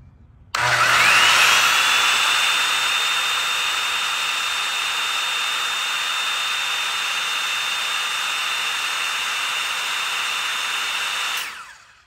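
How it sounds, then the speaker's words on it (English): A circular saw powered by an Anker Powerhouse 767 spins up sharply and runs at a steady high-pitched whine for about ten seconds before winding down, alone and close. "First, I'm going to start out with just a circular saw."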